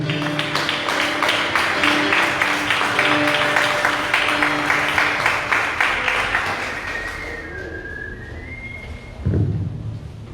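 A church congregation clapping in a steady, rapid rhythm during worship, loud and continuous, fading out while a high whistle-like tone rises near the end.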